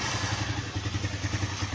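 A TVS motorcycle's electric self-starter cranks the engine, a close, steady, rapid low chugging with rhythmic clattering pulses and no voices.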